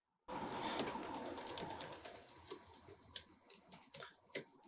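Keystrokes on a Logitech Craft low-travel keyboard, a quick run of close, crisp clicks that thins out into sparser separate taps, with a soft hiss underneath and no voices.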